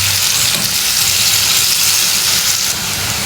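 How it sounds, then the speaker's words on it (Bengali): Bitter gourd (uste) deep-frying in hot oil over high heat gives a steady, loud, close sizzle with constant hissing bubbling and no pauses. "চুলার আঁচটা আমি হাই হিটে রেখে একদম ডুবো তেলে উস্তাগুলো ভেজে নেব।"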